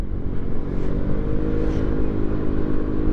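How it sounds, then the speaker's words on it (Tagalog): A motorcycle rumbles steadily and loudly close by for about three seconds, a dense low engine drone with a faint rising whine, heard on a mountain road ride on a Vespa. "Ito, may isa pang motor"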